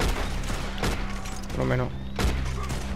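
Gunfire rings out in Red Dead Online during a wagon ride, a few sharp shots and booms breaking through someone speaking Spanish.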